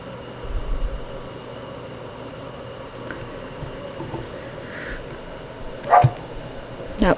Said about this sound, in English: That was my dog, Caillou, barking